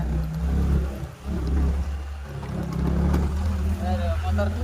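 Old motorcycle engine labouring up a steep hill, a loud continuous low rumble that swells and revs close by, with people talking over it.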